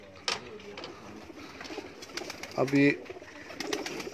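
Pigeons on a rooftop loft give a few soft coos and calls in the background while someone talks nearby, with one brief clearer call in the middle.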